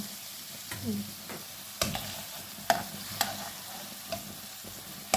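Pieces of rohu fish fry in a pan, a continuous low sizzle broken by several sharp scrapes and clacks of a spatula against the pan, close by with no voices.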